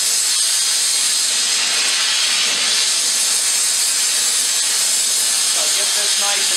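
Gas torch heating the edge of a steel pipe for blacksmith forging, a loud steady roaring hiss that runs continuously and close up, with no pauses.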